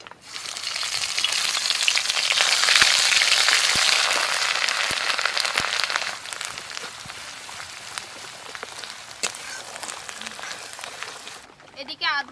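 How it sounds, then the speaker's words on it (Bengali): Steady rain pours down outside a home kitchen in a sudden shower, a dense hiss that is loudest early and then eases to a softer patter, mixed with faint clinks and voices in the background. "দেখুন বাইরে কিরকম বৃষ্টি পড়ছে।"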